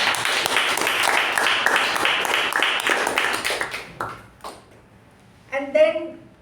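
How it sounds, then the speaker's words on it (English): Audience applause at a Toastmasters meeting, a dense burst of many clapping hands that fills the first four seconds, then dies away into scattered claps and a brief voice near the end. "A big round of applause for both of them."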